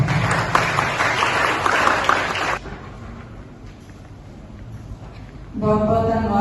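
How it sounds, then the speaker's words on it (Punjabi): An audience at a Punjabi networking afternoon applauds, with dense, loud clapping that dips to a quieter, muffled spell before swelling again toward the end. "ਇਹਨਾਂ ਵਾਸਤੇ ਇੱਕ ਵਾਰੀ ਤਾੜੀਆਂ ਮਾਰੋ"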